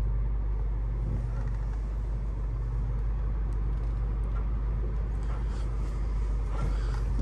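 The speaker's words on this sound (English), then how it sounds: "Put it in drive. And let's see how she cruises." A 10+ year old Cadillac DTS engine hums steadily as the car cruises along, a constant low rumble with road noise throughout and no talking.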